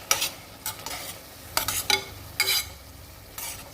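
Soya biryani being stirred in a cooking pot, with several short bursts of scraping and stirring at irregular intervals over a low simmering background, close and fairly quiet.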